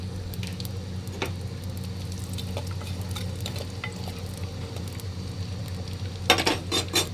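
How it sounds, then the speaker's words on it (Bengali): Whole garam masala sizzles quietly in a good amount of hot oil in a handi, a soft steady crackle broken by a few utensil scrapes and clinks near the end. No voices. "এবার আমি গোটা গরম মশলা করে ফোন দিয়ে দিচ্ছি তেলে"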